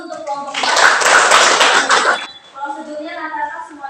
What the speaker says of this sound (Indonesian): Jadi kita tepuk tangan dulu untuk kelompok 4.